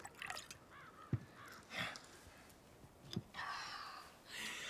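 Wine glugs and trickles into a glass in several short pours with pauses between, fairly faint, against a quiet indoor background without speech.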